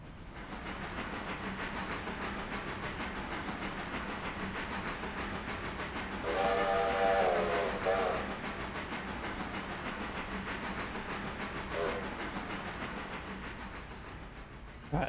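A train arrives in the RailRoader railway simulation game, its wheels and running gear rumbling on steadily before a steam whistle sounds a long blast midway and a short one later, both fairly near.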